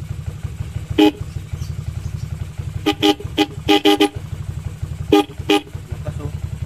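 Dual loud horn fitted to a Mio Soul motorcycle, sounding in short sharp toots: a single blast, then a rapid cluster of four or five, then two more, close and loud over a steady low engine rumble.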